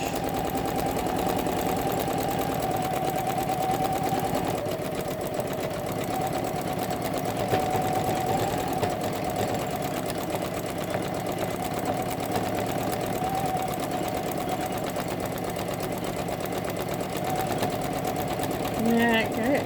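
A Janome Memory Craft 10001 embroidery machine hums continuously as it stitches out a scarecrow design, a steady mechanical drone throughout with faint voices in the room.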